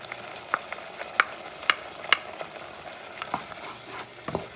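Potatoes are stirred through a pan of churrasco stew, a low sizzle under a series of sharp spoon scrapes and clacks, spaced irregularly and fairly close.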